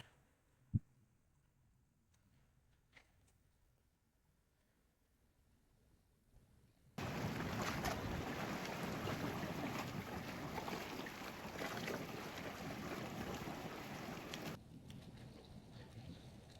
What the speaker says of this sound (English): here comes a sailing boat cruising past